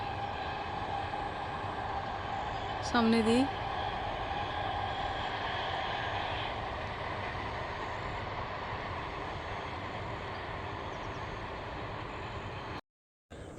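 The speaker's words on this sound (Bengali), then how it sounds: "ট্রেন যাচ্ছে ট্রেনের আওয়াজ পাচ্ছেন" A train passes at a distance near a border area, heard as a steady broad rumble that stays fairly constant throughout, with a brief higher tonal sweep early on and a short voice.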